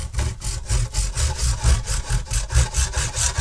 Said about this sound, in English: just run a junior hacksaw down one or both of these